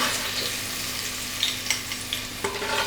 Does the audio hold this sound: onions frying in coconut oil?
yes